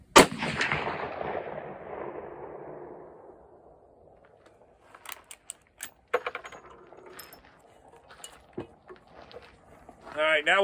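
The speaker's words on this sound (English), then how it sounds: "This is my final shot at the target." Marlin 336 lever-action rifle in .35 Remington fired once at a paper target, a sharp loud crack at close range whose rumbling echo fades over several seconds, then a few quiet clicks and handling noises.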